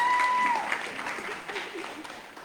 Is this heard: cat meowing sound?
no